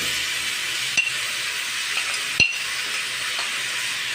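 Strawberries are stirred into caramelized sugar in a pan, giving a soft continuous sizzle with a couple of sharp clinks of a utensil against the pan.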